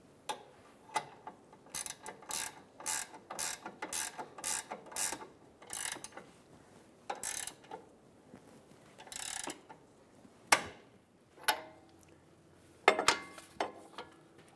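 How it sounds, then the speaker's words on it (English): Wrench ratcheting on a Toyota Camry front sway bar link nut, a series of quick, close, bright clicking bursts in an uneven rhythm with short pauses between strokes, a few louder sharp clacks near the end. "Hold with your wrench."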